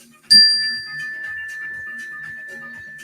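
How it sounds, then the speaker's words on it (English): A single bell is struck once, ringing out clearly with a pure, sustained tone that slowly fades while faint room sounds continue. "When you hear the mindfulness bell that I'm about to hit"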